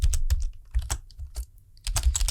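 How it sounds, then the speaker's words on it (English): Fast typing on a computer keyboard, close and fairly loud, with bursts of key clicks separated by a brief pause. "I do not check what I'm typing"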